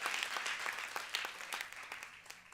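A church congregation claps together, brisk continuous hand applause at moderate distance, fairly faint and fading slightly toward the end.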